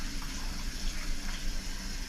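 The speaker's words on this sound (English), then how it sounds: "Keep that under some cold water." Cold tap water running steadily while fish is rinsed in a kitchen, a continuous moderate hiss and splash without speech.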